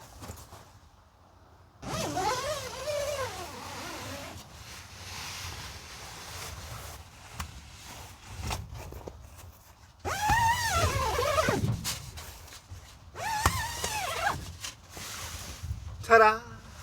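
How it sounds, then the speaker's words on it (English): Zipper on a Onetigris Northgaze shelter opening from the top down, several long rasping pulls close to the mic, separated by pauses with quiet rustling and light wind noise. "there's also a zipper at the top."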